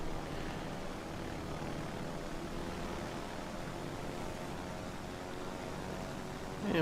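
Torpedo bomber propeller engines in World of Warships: Legends, a steady, even drone of aircraft engines that holds at a constant faint level with no talking.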